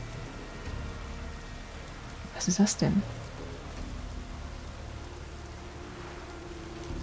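Rain falls steadily in the video game The Witcher 3: Wild Hunt, a soft, even hiss, with a short spoken question cutting in partway through.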